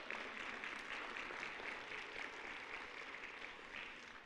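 A church congregation applauds continuously, a dense, even wash of clapping that holds steady from start to finish.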